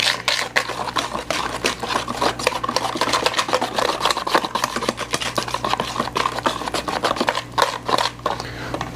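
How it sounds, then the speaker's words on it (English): A hand whisk beats sugar into sweet potato and apple butter cupcake batter in a bowl, a fast, steady stream of scraping, clicking strokes with no pauses, close and fairly loud. "I just whisked until I didn't feel any more sugar crystals"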